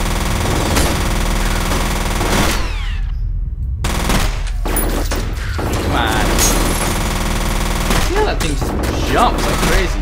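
A submachine gun fires in the shooter game F.E.A.R. in rapid, held-down bursts of loud gunfire, with brief gaps between the strings of shots.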